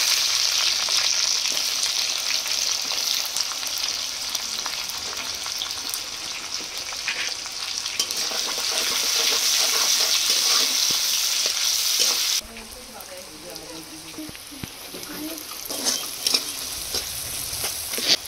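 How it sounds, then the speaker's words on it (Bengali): Whole cumin, chillies and chopped onion fry in hot oil with a loud, steady close sizzle, with occasional stirring scrapes; the hiss drops noticeably quieter about two-thirds of the way through and continues at that lower level. "তেল গরম হয়ে গেছে, গোটা জিরা দিয়ে দেবো, লঙ্কা, পেঁয়াজ কুচি"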